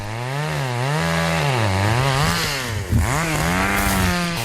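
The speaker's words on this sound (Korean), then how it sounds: "산속에서 나무를 정리하는 벌목을 합니다" A chainsaw felling trees in a mountain forest runs continuously at close range, its engine pitch rising and falling as the operator works the throttle, with a brief dip and jolt near the end.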